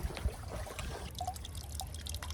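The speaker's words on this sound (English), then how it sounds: "Listen to that, beautiful, tiny little trickle there" A small clogged garden fountain lets out a tiny, faint trickle of water with scattered soft drips against a quiet outdoor background.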